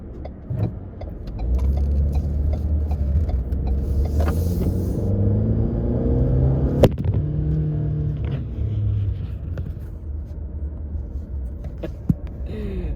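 A 2020 Ford Fusion SE accelerates, its engine rumble rising steadily in pitch from inside the cabin with a few small clicks and knocks, loud and close, without talking.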